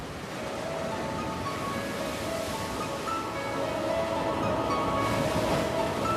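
Rough, turbulent sea with heavy waves in hurricane-driven conditions, a steady dense roar of surf and wind that swells slightly toward the end, with no voices.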